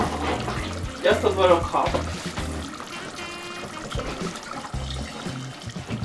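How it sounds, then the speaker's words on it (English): Palm oil is poured into a cooking pot, a short liquid glug and splash at close range, heard as a brief burst amid kitchen handling noises while a voice talks. "So in our pot, we're going to add our palm oil"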